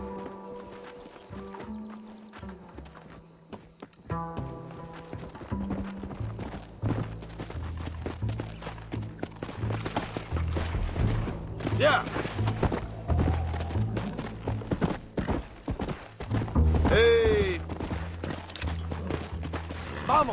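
Horse hooves clip-clop steadily in the Red Dead Redemption video game, with a whinny and some background music and game effects, growing busier partway through.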